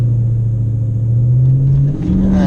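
A Dodge car, a 392 Scat Pack or Hellcat-class V8 in sport mode, launches at a drag race: a loud, close engine drone climbs steadily in pitch, dips briefly at a shift, then pulls on higher.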